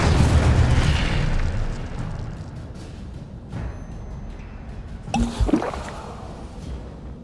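Incendio fire spell cast in Hogwarts Legacy, a sustained roaring, rumbling blast with a sharp burst and crackle a little past the midpoint, loud and close with no voices.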